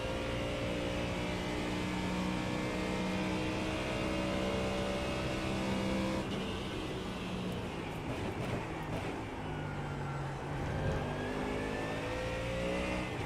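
A Mustang GT3 race car engine in iRacing, racing at The Bend, with a steady loud drone that drops and then climbs again through the gears.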